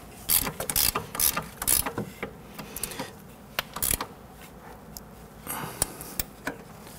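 A 5 mm Allen key with a ratchet clicks in short, irregular bursts while working on the front suspension of a 1992-1996 Toyota Camry during a left front CV axle replacement. The crisp mechanical clicks are close and sound alone, with pauses between bursts.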